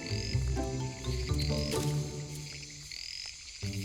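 Tree frogs croaking in a rainforest canopy, several overlapping rhythmic croaks and short calls close by, with faint high insect chirps in the background.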